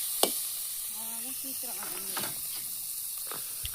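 Onion and tomato sizzle steadily in a hot pan as they are sautéed for Tamil vathal kulambu, a constant close frying hiss with a few stirring scrapes, while someone talks over it.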